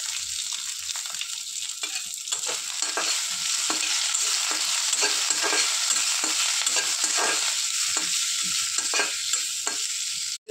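Six or seven green chilies, curry leaves and coriander frying in hot oil as a tempering, a continuous close sizzle with repeated light stirring taps throughout, no talk.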